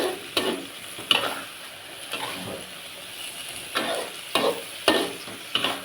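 A spatula clatters and scrapes against a pan in quick, uneven bursts, with a light sizzle underneath, as food is stir-fried up close with no talk.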